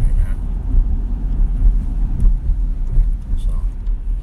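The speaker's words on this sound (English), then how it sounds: "what's with this traffic tonight, man?" Road traffic at night, close car engines rumbling and swelling as vehicles pass, a low continuous drone with a few louder passes.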